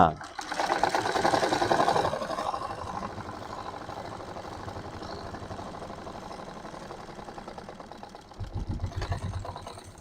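A sewing machine hums steadily while stitching a seam half an inch in on trousers, strongest at first then continuing lower, with a voice talking over it.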